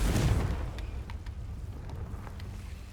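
A Confringo fire spell blasts in Hogwarts Legacy: one loud, close, rumbling burst at the start, then fading into a low, noisy roar.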